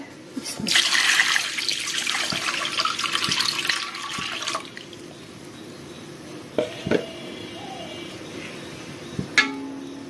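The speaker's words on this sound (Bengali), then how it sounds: "তো পরিমাণ মতো পানি দিয়ে দিই" Water poured from a tap or vessel into washed masoor lentils in a cooking pot for sour dal with raw mango, a steady splashing gush for about four seconds, then quieter kitchen handling with a few soft knocks.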